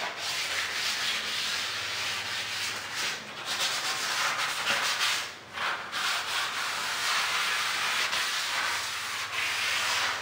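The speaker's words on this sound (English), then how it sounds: "And then I'm going to sand down the box" Hand sanding of box patterns on new crown molding being prepared for paint, a steady close scratchy rubbing that continues throughout with brief pauses between strokes.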